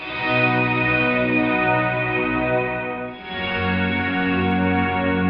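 Guitar chords drenched in Valhalla Shimmer reverb at a 100% wet mix: a sustained, washy, shimmering chord swells, dips briefly, then a second chord blooms and rings on loud and smooth.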